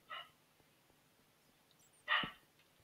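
Two brief, faint dog barks about two seconds apart from a dog in Minecraft, the second slightly louder, set against quiet background noise with no talking.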